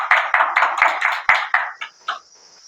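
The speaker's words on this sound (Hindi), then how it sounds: "जोरदार ताली होना चाहिए।" Sharp hand claps in a quick uneven burst from a small classroom audience welcoming a student presenter, loud and close, fading into a few scattered claps and quiet room noise.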